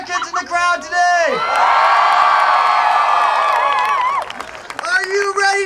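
A rally crowd outdoors erupts into loud cheering, whooping and shouts with some clapping, a sustained swell of voices lasting a few seconds between stretches of amplified speech.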